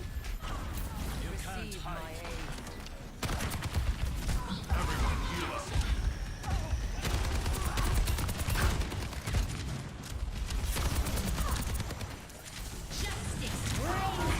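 Steady gunfire from the shooter game Overwatch 2 runs throughout, a dense crackle of rapid shots and impacts, with a player talking over it at times.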